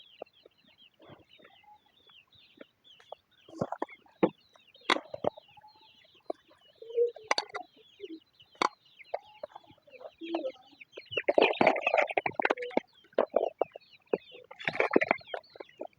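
A small family flock of about thirty chickens clucking and squawking before feeding, scattered clucks building into busier overlapping bursts, with occasional sharp calls and quiet gaps.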